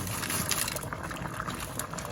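Dry noodles are poured into a pot of liquid and stirred, giving a steady, close wash of sloshing and trickling water with no talk.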